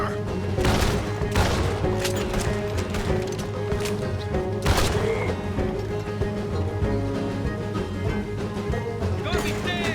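Gunfire in the video game Red Dead Redemption II during a jailbreak shootout, sharp loud shots cracking out irregularly over a busy game soundtrack, with characters talking in between.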